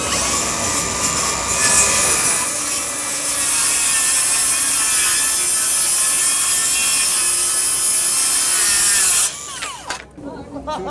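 A cordless Bosch saw cuts through two sheets of 3/4 inch plywood with a loud, close, continuous buzzing whine of blade in wood that ends abruptly, leaving brief clatter afterward.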